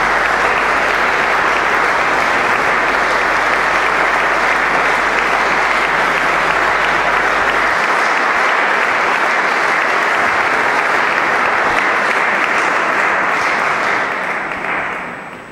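A concert audience gives a choir a standing ovation, with dense, loud, continuous applause that fills the hall and holds steady for over fourteen seconds before starting to fade at the end.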